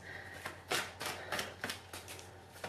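A deck of playing cards being shuffled during a live stream, with a series of crisp riffling bursts repeating in a quick, uneven rhythm, close and moderately loud, no talking over it.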